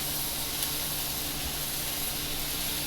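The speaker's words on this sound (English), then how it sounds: "You just throw in all the vegetables, the onions, potatoes, and carrots. Stir it around in the fat." Onions, potatoes and carrots stirred around in hot fat for Japanese curry give a steady, even sizzle and hiss that holds at a constant level, with no voices.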